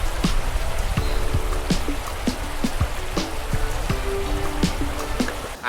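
Paudi Khola, a stream in Lamjung, flows steadily and close by, its constant rushing water broken by bright droplet splashes and trickling accents throughout.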